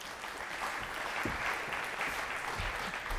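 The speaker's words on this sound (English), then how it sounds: "Round of applause, please." Audience applause at a tech conference talk on mixed reality and AI in retail, a steady wash of clapping from a seated crowd lasting the whole moment, moderately loud and without talk over it.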